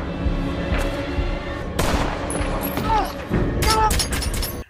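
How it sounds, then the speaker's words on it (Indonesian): Gunfire from a robber during a holdup, with loud sharp shots scattered through a tense scene, layered over shouting voices and other chaotic noise. "Anaknya kemudian ditembak oleh seorang perampok."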